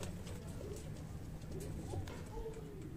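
Highflyer breeder pigeons give soft, low, repeated cooing calls, faint and steady against a quiet background hum.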